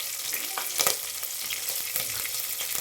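Sliced onions fry in oil in a pan for pulao, giving a steady close sizzle with occasional sharper pops and faint stirring scrapes.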